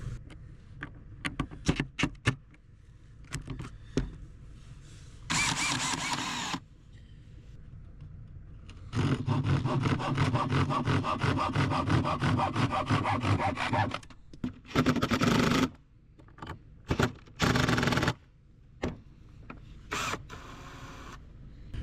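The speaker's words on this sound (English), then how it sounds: "Might just have to sharpen that again." Wooden dowel being sharpened into a wand with a tool clamped to a drill, giving scraping, rasping bursts of several seconds each, separated by short knocks and handling noises, fairly close with no talk.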